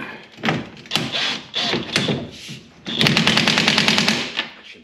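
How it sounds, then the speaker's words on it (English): Pneumatic impact wrench run on a low setting during rear axle replacement on an Arctic Cat Prowler 650 H1 ATV, giving several short bursts early on, then a sustained loud rattling hammer from about three seconds, close up. "I'll put the impact gun on low"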